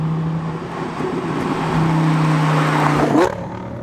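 A modified Lamborghini Gallardo LP560-4 with a V10 pulls hard from inside the cabin, engine note rising steadily before a sharp upshift drops the revs near the end, loud and close with no talk.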